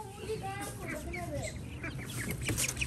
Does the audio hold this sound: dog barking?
no